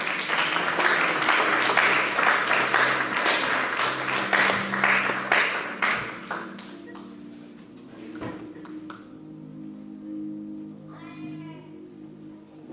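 A church congregation applauds loudly and steadily for about six seconds, then the clapping thins out and fades into quieter room noise.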